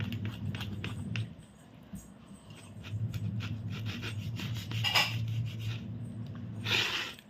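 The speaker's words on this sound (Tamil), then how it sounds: "நான் கத்தி வச்சு தான் கட் பண்ணுறேன்." A knife cutting through homemade pizza, sawing and rasping with a steady rubbing rhythm and a low continuous hum beneath, close and fairly faint.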